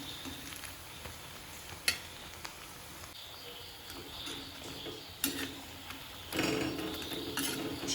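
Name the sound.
chicken frying and being stirred in an iron kadai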